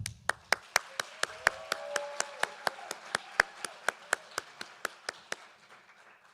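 Crisp hand claps ring out at an award presentation for a Youth Tour recipient, landing in an even, steady rhythm of about twenty distinct claps in a quiet room.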